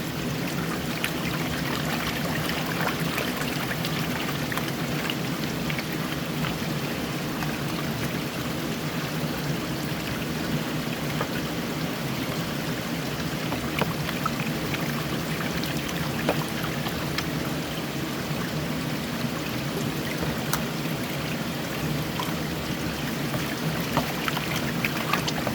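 Water swirls and sloshes in a gold pan as concentrate with black sand is worked in a prospecting hole, a steady close wash of trickling and pouring water with small gritty clicks.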